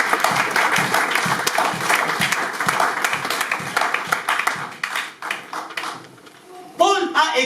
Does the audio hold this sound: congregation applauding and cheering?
yes